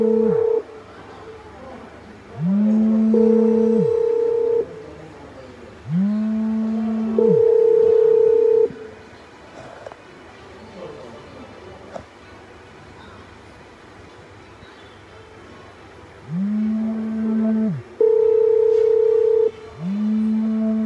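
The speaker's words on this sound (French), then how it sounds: "Mon téléphone n'arrive pas à rester tranquille là." A mobile phone rings in repeated cycles of two-tone bursts about every five seconds, loud and close, with people talking in the gaps between rings.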